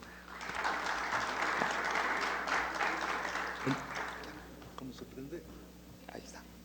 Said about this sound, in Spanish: un fuerte aplauso para el profesor Raúl